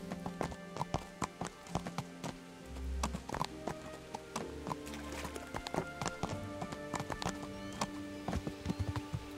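Horse hooves clip-clopping at a walking pace in the medieval game Kingdom Come: Deliverance, a steady irregular run of close, crisp hoof taps over a low rumble of game ambience and music, with no voices.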